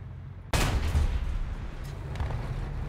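A single loud tank cannon shot from a Tiger-E in War Thunder, a sharp broadband blast at once followed by a long rumbling low decay under steady engine drone.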